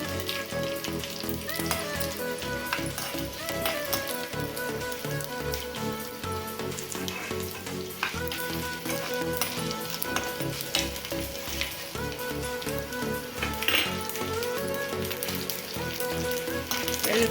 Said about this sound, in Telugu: వెల్లుల్లిపాయలు బ్రౌన్ కలర్ వచ్చాక వేయించుకోవాలి, లేకపోతే పచ్చిగా ఉంటుంది.